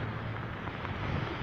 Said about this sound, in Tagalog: Yan o, lakas ng ulan dito.